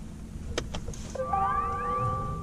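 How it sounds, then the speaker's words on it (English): BMW i8 startup: a few soft clicks followed by a rising, futuristic synthesized tone sweep that settles into a sustained hum, fairly quiet and close. "this is what the sound is when the startup happens"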